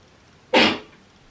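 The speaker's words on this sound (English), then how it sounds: "I'm about to sneeze." One short, sharp sneeze bursts out close by, then fades quickly into quiet.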